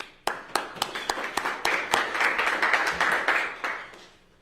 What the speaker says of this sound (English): So a big round of applause for Mark.